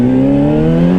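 A 2025 Honda CBR600RR motorcycle engine with a quick shifter holds a loud, close, steady buzzing drone that rises slightly in pitch over about a second.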